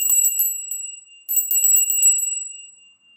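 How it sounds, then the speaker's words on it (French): A small bell is rung twice, bright and close, each strike leaving a clear sustained high tone that rings on and slowly decays. "Je vais vous prendre un peu de son de ma cloche"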